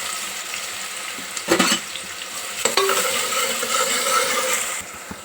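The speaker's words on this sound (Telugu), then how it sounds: "మసాలాలు వేగినాక కట్ చేసుకున్న 2 ఉల్లిపాయలు," Whole spices and two chopped onions fry in oil for mutton curry, a bright continuous sizzle broken by two loud stirring clatters as the onions hit the pan and are turned.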